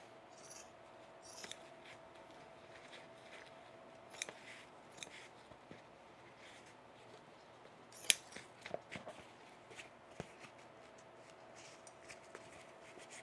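Scissors cut through cargo pants fabric, a series of faint, scattered snips and crisp rustling clicks at irregular intervals over a quiet background, with one sharper cut standing out midway.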